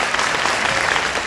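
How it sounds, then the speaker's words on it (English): Audience applauding an intermediate orchestra as it leaves the stage at a spring concert, a steady dense wash of clapping throughout with no voices over it. "Let's give them another clap as they leave the stage."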